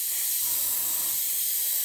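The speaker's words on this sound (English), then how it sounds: "when I spray gloss coat on that, it completely loses its metallic look" A short, steady hiss of Mr. Colour gloss coat sprayed onto a plastic model, close and even throughout, with no talk.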